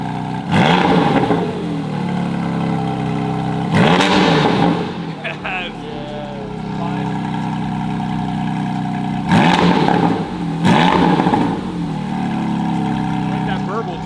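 Porsche GT4RS with a Fabspeed exhaust, engine revved hard several times in short bursts with throaty burbling between, close and loud, while people talk over the idle.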